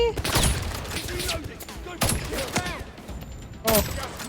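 Video game gunfire from what the player calls the best gun in the game, with dense bursts of shots and thuds, three loud volleys near the start, middle and end, under a busy mix of game effects.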